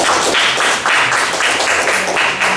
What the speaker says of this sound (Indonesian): Kita mau beri tepuk tangan lagi